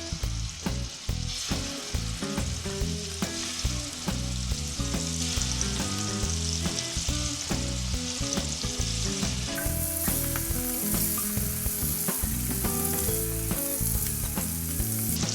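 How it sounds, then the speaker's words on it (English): Scallops searing in hot oil and butter in a skillet, a loud, constant crackling sizzle that holds steady throughout and sharpens partway through, with no voices. "put them into the hot oil"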